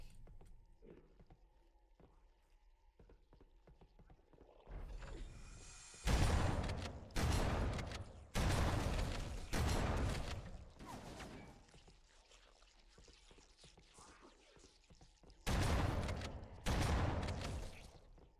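Enemy gunfire in Halo: Combat Evolved, heard as several loud, separate bursts of shots against quieter game background, with pauses between volleys.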